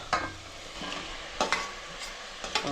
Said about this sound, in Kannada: ಟೊಮೊಟೊ ಹಾಕಾಯಿತು ಈಗ ಚೆನ್ನಾಗಿ ಫ್ರೈ ಮಾಡಿ ಹಾಕೋಣ